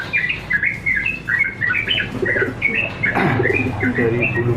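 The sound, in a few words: pigeon cooing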